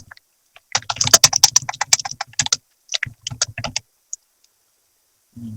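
Bursts of rapid keystrokes clatter on a computer keyboard while someone builds a Java form, in two quick clusters separated by short pauses, close and crisp, with a lone click after and no talking.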